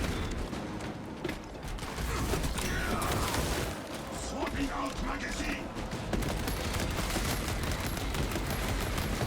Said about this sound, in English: this is where it actually performs as a bolt rifle should, where you actually just shoot through these guys